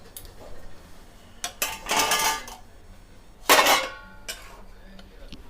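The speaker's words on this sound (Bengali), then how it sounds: "ঢাকাটা খুলে একবার দেখে নেব বরবটিটা সেদ্ধ হয়েছে কিনা" A metal lid comes off a pot of boiling yardlong beans in a few short, close clanks and scrapes, separated by quiet gaps.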